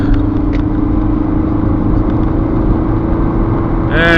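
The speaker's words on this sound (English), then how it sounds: "0 to 60 test now." A 2007 Audi A6 2.0 TDI diesel sedan accelerating hard from 0 to 60 mph on a wet road, a steady, loud engine drone heard from inside the cabin throughout.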